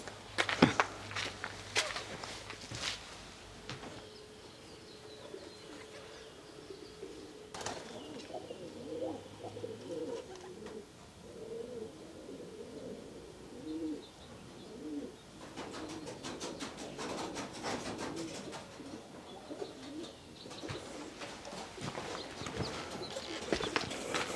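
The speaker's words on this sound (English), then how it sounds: "there's a pigeon walking above. I don't know if you can hear their feet tapping. There's a lot of pigeons here." Pigeons on a rooftop in a desert art town, Bombay Beach, California, with soft footstep taps and low cooing repeating through the scene, fairly quiet against faint ambient background.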